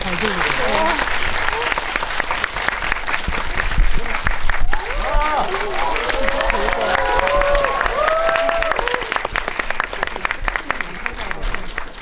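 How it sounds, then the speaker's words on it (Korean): Applause and cheering from a theater audience at a Korean film talk event, dense and sustained for the whole stretch, with a host's voice heard over the clapping. "큰 박수 부탁드립니다."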